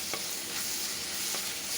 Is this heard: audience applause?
no